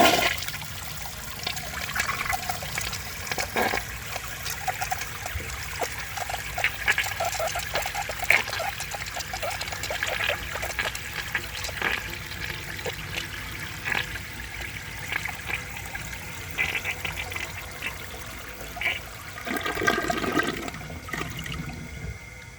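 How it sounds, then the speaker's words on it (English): A 1973 Eljer Emblem toilet flushes in a long, steady rush of water lasting over twenty seconds, with gurgling and trickling throughout and a louder surge near the end as the bowl refills. "That was a pretty smooth flush."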